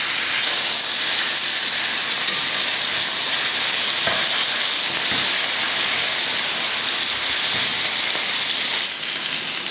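Mutton pieces searing in hot oil, a loud, continuous close-up sizzle and hiss with faint scrapes as the meat is moved around the pan, no voices.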